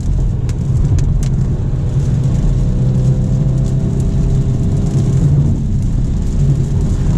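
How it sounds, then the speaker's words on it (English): A 2021 BMW 430 Convertible accelerates on a highway in sport mode with manual paddle shifts. A loud, steady engine drone mixes with road and wind rumble, and the engine's tone shifts slightly partway through. "So now when we accelerate on the highway after the Civic, we'll try it with the paddle."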